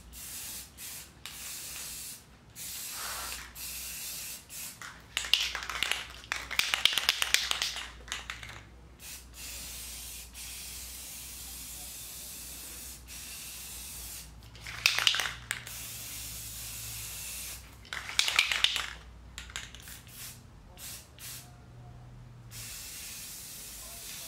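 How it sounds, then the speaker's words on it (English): A spray paint can hisses in three separate bursts, sputtering as it nears empty while a wooden game table gets painted and aged. The bursts are close and loud over a low room noise, with short pauses between them. "it starts to spray, like splurt out"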